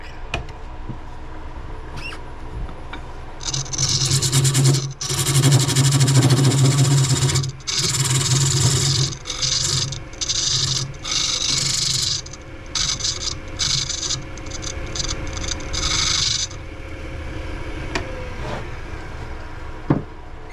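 A lathe hums steadily while a cutting tool scrapes against spinning chestnut oak, cutting a mortise for a chuck, in long, rasping passes that start and stop, loud and close.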